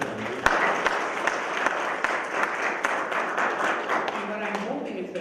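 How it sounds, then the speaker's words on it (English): Lecture audience applauding two people, a dense steady wash of clapping filling the room from start to finish with a faint voice underneath. "just a quick applause right now for the two of them"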